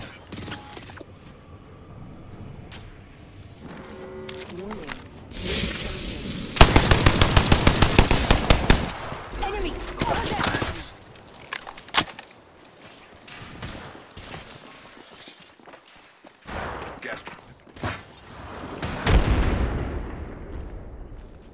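Apex Legends gunfire: a dense burst of rapid automatic shots stands out midway, with scattered single shots and mechanical clicks and creaks before and after, loud and close.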